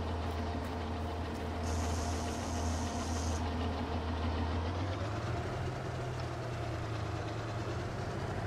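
A tractor drives forward in the video game Farming Simulator 22, on a GDR-era collective farm, with a steady low engine drone that holds constant throughout and shifts slightly in pitch midway, with no talking.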